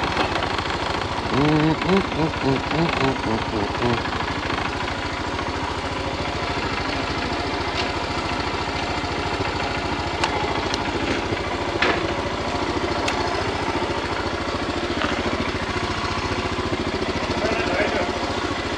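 A motorcycle engine idles close by with a steady, throbbing putter that runs the whole time, a few brief knocks and a short voice early on.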